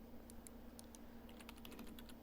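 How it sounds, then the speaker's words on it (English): Keyboard typing in the video game Everlasting Summer: rapid, uneven clicks of keys struck one after another, near and steady over a constant low hum, with no voices. "Obviously, he's not asleep, he's typing."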